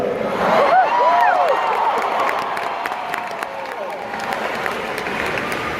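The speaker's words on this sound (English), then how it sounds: "feisty crowd for this early in the morning." A lively morning crowd greets a speaker with loud applause and cheering, sustained throughout, with whoops rising over the clapping near the start.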